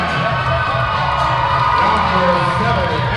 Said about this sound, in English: this Holy Cross crowd is electric